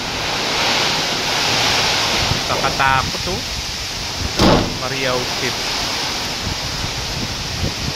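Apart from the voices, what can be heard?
strong typhoon wind and heavy rain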